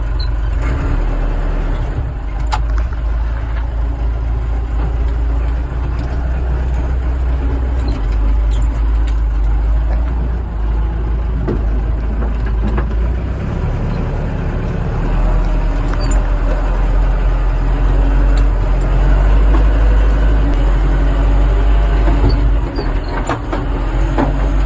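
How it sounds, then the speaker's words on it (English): A digger and tractor work through a farm clean-up, their diesel engines running as a loud, steady low rumble that continues unbroken from start to finish with no voices. "I'll stand the digger now end on"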